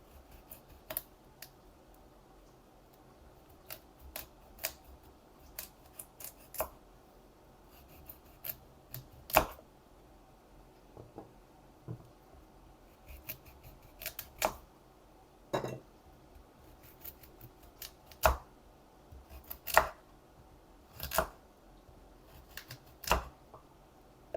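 A knife cuts a peeled carrot into chunks on a cutting board in a home kitchen, giving quiet, irregular chops and taps with faint clinks, close and soft, with no talking.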